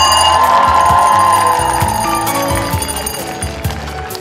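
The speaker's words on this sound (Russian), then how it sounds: "Последний школьный звонок в этом году дал глава города. Хрустальный звон раздался на всю площадь." Handheld school bell ringing out across a town square at a last-bell ceremony, a loud, bright, continuous clanging with rhythmic strokes that gradually fades.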